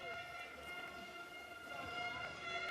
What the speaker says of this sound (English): You can hear the air horns chirping away furiously for their man on pole position.